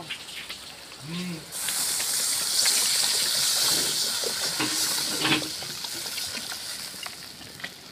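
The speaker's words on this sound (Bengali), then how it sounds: "এবারে এর মধ্যে আমি জল দিয়ে দেব।" Water poured into a pan of cooking mango curry, a sudden loud gushing hiss that starts abruptly and keeps rushing and bubbling as it begins to simmer, with a brief voice sound just before.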